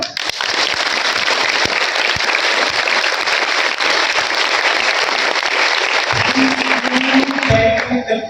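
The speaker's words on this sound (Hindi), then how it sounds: "जो इंसान खुद से ही अभी ये वादा कर रहा है उसकी ताली की आवाज सुनना चाहता हूं मैं" Dense, loud applause from an audience filling the space for several seconds, then thinning out near the end as a few voices start to come through.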